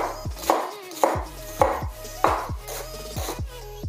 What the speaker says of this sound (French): Notre oignon, on va le couper grossièrement.